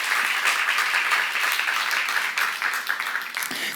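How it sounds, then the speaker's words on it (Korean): A church congregation applauds during a Bible lecture at a Korean church, a full, dense burst of many people clapping that holds steady at fair loudness and tapers slightly toward the end. "빨리 박수 하세요"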